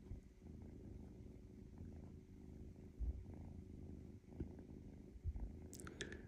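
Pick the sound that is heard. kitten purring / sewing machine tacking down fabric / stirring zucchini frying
kitten purring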